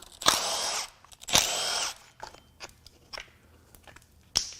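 Power tool unbolting parts on a Volkswagen Jetta 1.9L ALH/AHU TDI diesel engine during a teardown: two loud drill-like bursts about a second each, followed by scattered clicks and clanks of loosened parts and a final short rattle.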